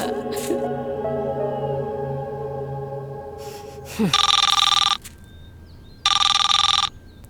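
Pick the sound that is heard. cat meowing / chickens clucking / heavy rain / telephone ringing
telephone ringing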